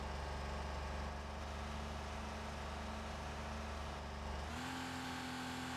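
A Porsche engine in the racing game Need for Speed Porsche Unleashed holds a steady, loud, droning hum that shifts to a new pitch near the end, as if changing gear, with no voices over it.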